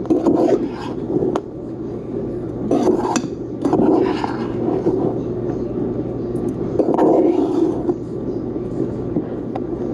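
Cherries tossed in a bowl with a metal spoon to coat them for a homemade cherry pie, with scraping, rubbing and clinking bursts in bouts, close and moderately loud.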